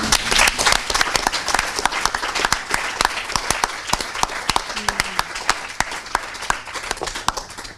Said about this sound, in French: On peut s'applaudir.